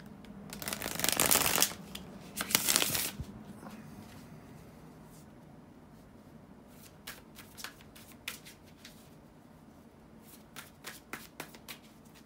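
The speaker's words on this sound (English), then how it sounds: "bear with me just a couple of seconds, guys, to shuffle the tarot cards" Tarot cards are riffled in two loud bursts of shuffling, followed by quieter scattered taps and slides of the cards being handled close up.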